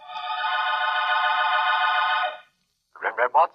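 An old-time radio telephone bell rings in one long continuous burst, loud and close, then stops; a voice speaks briefly afterward.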